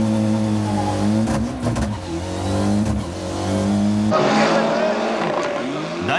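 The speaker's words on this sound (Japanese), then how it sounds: "第2レースのエスコートでもブロンクビストはステディーな走りでその差を広げ始める" Race car engine at the 1996 Race of Champions heat, revving and accelerating with strong rising and falling harmonic whine, loud and close, with a brief tyre squeal and a harsher, brighter engine note in the final seconds, commentary voice underneath.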